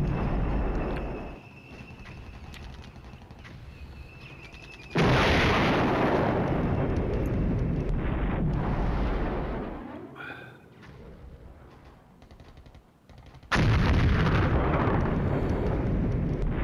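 Gunfire and artillery in the Flashpoint Campaigns: Red Storm war game: loud bursts of rumbling explosions and shooting, a sustained barrage around the middle, a quieter crackling lull, then another heavy blast of fire near the end, with no talking.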